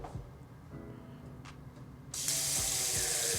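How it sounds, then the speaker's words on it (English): Water running from a fountain-style bathroom sink whose stream rises from the top of the basin, quiet clinking at first, then a sudden steady rushing hiss that continues, close by. "They have a fountain that comes up from the top."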